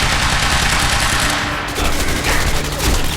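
Assault rifle fire rattles in rapid, dense bursts during a Quantum Break gunfight, loud and continuous throughout amid the scene's other action sounds.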